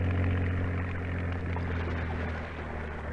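Boat engines in a radio drama drone steadily as a low, continuous motor hum with churning wash, holding a fairly even level throughout.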